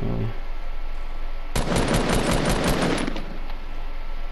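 Rapid automatic gunfire in the battle royale game Fortnite, a dense burst of shots starting abruptly and rattling for about two seconds, loud and close.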